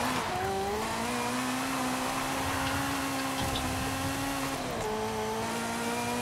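A BMW X5 SUV, Forza Edition, races in Forza Horizon 5, its engine holding a steady loud drone that climbs in pitch, dips briefly at a gear change, then rises again, close and alone.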